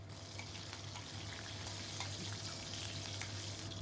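Cumin seeds and chopped green chillies frying in hot oil for an egg and tomato curry, a steady close sizzle with soft crackles running throughout beneath a low hum.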